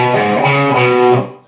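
Distorted electric guitar plays the rhythm lick from the lead section of a song, sustained chugging notes ringing loud and close for about a second before cutting off.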